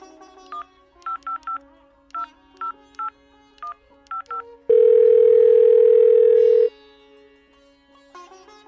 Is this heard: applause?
no